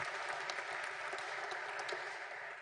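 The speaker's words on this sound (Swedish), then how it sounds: "Varma applåder, Robert Boje." Warm applause from a seminar audience after a presentation, a continuous even patter of many hands clapping at moderate distance, unbroken throughout.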